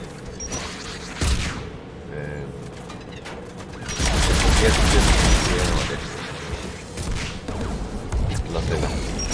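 Heavy gunfire from the guns protecting the tower in Mass Effect Legendary Edition, a dense fusillade of booming shots and crashes swelling loudly midway, with a voice talking over it.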